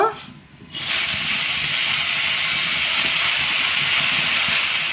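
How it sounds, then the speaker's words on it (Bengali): Fresh bathua greens drop into a hot wok and set off a loud, sudden sizzle that starts after a brief quiet moment and then holds as a steady, dense hiss until the end. "কড়াতে আমি এখন এই শাকগুলো দিয়ে দিব"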